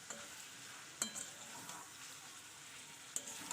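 Chicken kosha sautéing in a pan over low gas heat, a steady soft sizzle and frying hiss with a few sharp scrapes and stirring clinks near the start and end, no voices.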